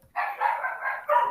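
Dogs barking in a short, close burst of several loud yelps and barks, bunched together with a brief gap before a final bark, with no one talking over them.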